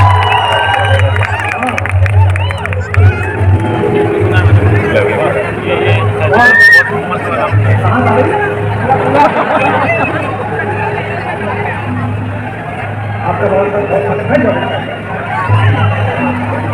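A large crowd gathers at a poet's live concert at Sahitya Aaj Tak, a continuous babble of many voices with occasional shouts, nearby speech heard over it, and a steady low hum.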